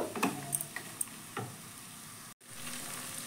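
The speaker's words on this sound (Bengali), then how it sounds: "এবার বরবটিটাকেও আমি 1 মিনিট মতো একটু ভেজে নিচ্ছি।" Chopped yardlong beans frying in a pan for fried rice, a soft steady sizzle with several light ticks and taps of a spatula, briefly cutting out before the sizzle resumes.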